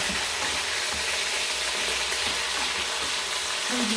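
Peppers dropped into a hot pan with vinegar set up a steady, close frying sizzle and hiss that holds evenly throughout, with no voices over it.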